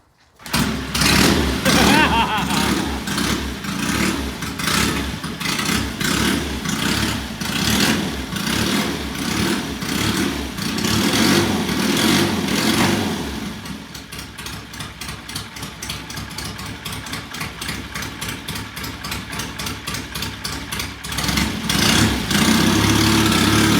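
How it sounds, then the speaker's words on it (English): A Triumph T100 500cc motorcycle engine starts from cold without choke, then runs loudly at a steady idle with an even, thumping exhaust pulse that shifts to a lighter, faster beat partway through; close and continuous. "This is a cold start from yesterday."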